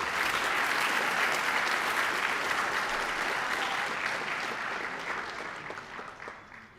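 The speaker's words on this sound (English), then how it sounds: "one more round of applause for this group" A crowd gives a long round of applause at a soccer club's senior night, honoring the graduating girls' team. The clapping is dense and loud from the start, then gradually thins and fades toward the end.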